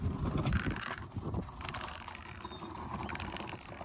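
A Milwaukee M18 cordless vacuum rolls on its wheels across the floor, making a close, continuous rumbling clatter with light rattling clicks that persists throughout without speech.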